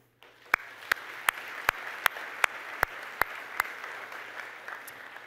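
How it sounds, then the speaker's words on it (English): A commencement audience applauds faculty and staff; one nearby pair of hands claps in an even, steady beat, loud and crisp above soft, distant crowd applause in a large, quiet hall. "I think you should applaud them too."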